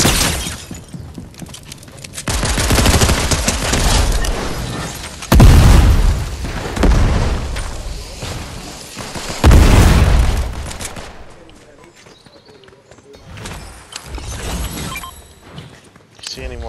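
Several heavy grenade blasts in the Fortnite battle royale game boom out over ongoing voice chat, with loud bursts near the start, middle and around ten seconds, then fading to quieter gameplay sounds.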